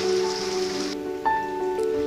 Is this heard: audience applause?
no